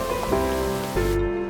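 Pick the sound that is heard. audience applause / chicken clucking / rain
rain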